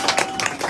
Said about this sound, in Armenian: Բարձր ծափերը մեր նորահարսի բացի